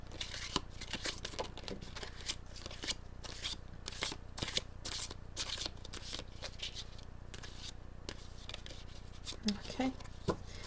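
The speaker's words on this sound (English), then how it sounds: "One card fell already out" A deck of tarot cards shuffled by hand, with soft repeated riffling and slapping bursts across a quiet room, close and fairly faint, and light handling clicks near the end.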